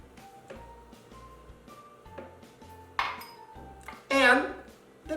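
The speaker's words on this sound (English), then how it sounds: "Now, let's mix them up." Muffin batter of milk, oil and baking powder being mixed in a bowl, with clinks and taps of a utensil against the dish, a louder scraping rattle near the end.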